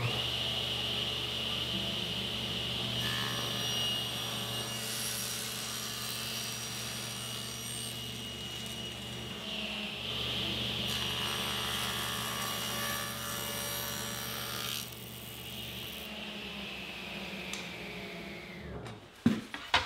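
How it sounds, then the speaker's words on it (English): A table saw rips a wood strip for a curved table top, a steady loud whine sustained for nearly twenty seconds, the pitch shifting as the blade cuts through, then spinning down to quiet with a few clunks at the end. "I'm going to rip this at 3/8 of an inch, then I'll rip it again at 3/4 of an inch so it will easily bend."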